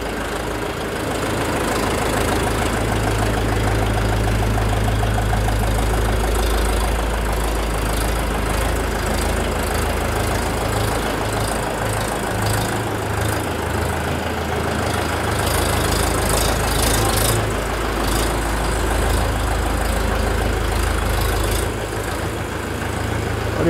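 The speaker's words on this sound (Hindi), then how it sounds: "ये ट्रैक्टर की आवाज़ है दोस्तों, देख लो, रनिंग भी देख लो।" A 2024 Mahindra 585 DI XP 50 hp tractor engine runs loud and close, holding a steady low diesel rumble with a knocking beat that continues without a break.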